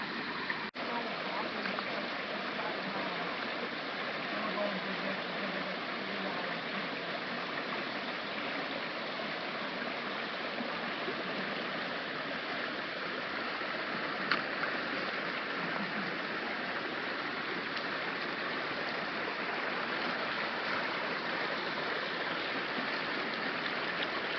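Creek water flows steadily along a canyon hiking route, a continuous close hiss and babble that stays even in loudness throughout with no talk.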